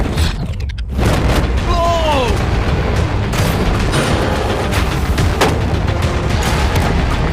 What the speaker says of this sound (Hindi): टैंक्स पैसों पर निशाना लगाकर 20 राउंड फायर करने वाले हैं।